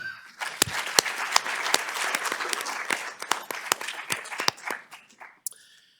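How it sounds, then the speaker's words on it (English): Audience applause at a statistics panel discussion, a steady wash of clapping with sharp individual claps standing out, fairly close, lasting several seconds before tapering off at the end. "So please could you all join me in a round of applause for Tyler."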